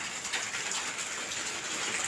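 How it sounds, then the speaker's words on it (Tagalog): Steady rain pours down outdoors over a home garden, a dense, even hiss of drops close by that holds without a break, with no voices. "Umulan na."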